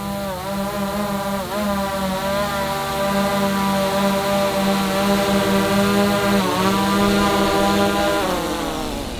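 Small camera drone hovering close by in a mountain setting, its motors giving a loud, steady high-pitched whine with shifting harmonics as it descends to land in a hand, then winding down as the motors cut.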